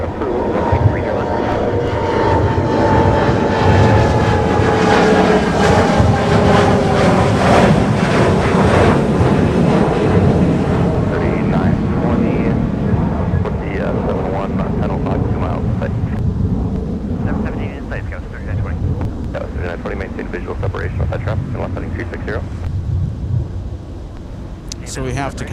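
A jet airliner takes off at Minneapolis–St. Paul airport in winter, a loud, sustained broadband engine roar that holds steady and slowly recedes. Radio chatter runs alongside it.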